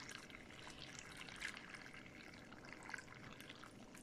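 Brine trickles steadily into jars packed with potatoes, a soft, faint continuous pour with small splashes, heard alone without talk.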